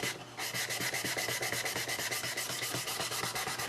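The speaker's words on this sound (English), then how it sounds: "just like any other sanding operation, we are going to sand with the grain." Wood on an electric guitar build is hand-sanded with the grain using fine sandpaper and True Oil, producing steady, rhythmic rubbing strokes at close range, continuous and even with no talking.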